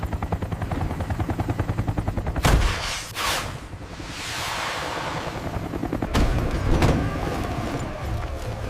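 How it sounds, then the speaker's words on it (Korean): Continuous gunfire during a North Korean shelling of Baengnyeong Island, with a rapid, steady stream of loud shots followed by heavy booming blasts and a rumbling roar, all near and dense with no talk. "사격! 연사! 계속 발사!"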